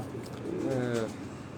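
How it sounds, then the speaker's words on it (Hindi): Pigeons cooing on a rooftop in Rawat, Chak Beli Road, including a black-faced pigeon: a single soft, low, rolling coo swelling and fading over about a second, close and clear against faint background noise. "जो काले मुंह वाला जो है ना कबूतर"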